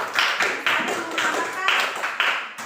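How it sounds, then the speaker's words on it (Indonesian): A classroom of students claps in short rhythmic bursts, about six evenly spaced rounds of group clapping, close and fairly loud. "Berikan dulu tepuk tangan semuanya"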